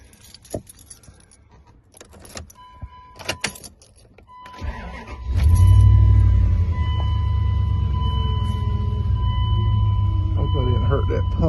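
Keys jingle and clatter close by, then a Dodge Dakota pickup engine cranks, catches and settles into a loud, steady idle rumble; the truck has a power steering leak and bad pressure sensor.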